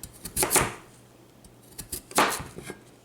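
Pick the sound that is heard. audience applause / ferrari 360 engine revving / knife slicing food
knife slicing food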